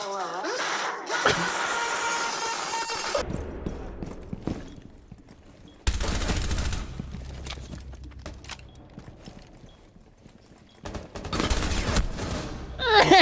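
Video game gunfire crackles in several loud bursts separated by quieter gaps, with scattered single shots between them and bits of other game noise.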